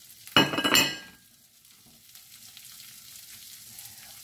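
Garlic and shrimp hit a hot pan with a loud burst of sizzling frying that lasts under a second, then settles into a faint, steady crackle.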